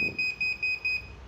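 Protection buzzer of a 48V 1000W pure sine wave inverter sounding during a short-circuit test, four evenly spaced loud high-pitched beeps in quick succession with no talk.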